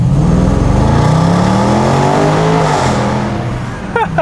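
A supercharged V8 in a 2020 Range Rover Sport in dynamic mode revs loudly and up close, the pitch climbing and falling across a few seconds, then settling into a rumbling idle before a short burst at the end.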